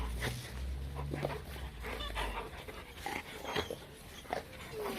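Pet dogs whimpering and panting softly at home, faint high whines and short breathy sounds over a low background rumble.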